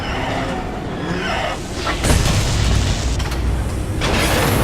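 A large radome explodes in the Metal Gear Solid video game, a loud rumbling blast swelling midway into a dense crackling roar with metallic debris clatter, sustained and heavy.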